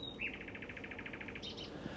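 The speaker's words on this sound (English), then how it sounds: "Now nightingales, that's a male singing." A male nightingale sings at night: a rapid run of about a dozen identical clipped notes, then a brief higher phrase, clear against a quiet background.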